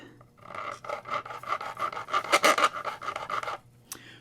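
A worker rasps a slot in a guitar nut with an old nut file during a setup of a Squier Venus Vista Series guitar, with repeated close scraping strokes that speed up into a dense burst before stopping.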